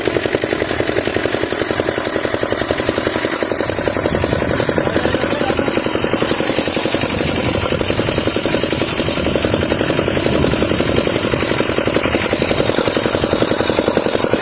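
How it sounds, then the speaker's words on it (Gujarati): A loud diesel power tiller engine chugs and clatters continuously at close range, a rough, steady mechanical rumble with no pauses. "આવી રીતનું કંઈક મશીન છે તમે જોઈ શકો છો પાવર ટીલર કહેવામાં આવે છે આને"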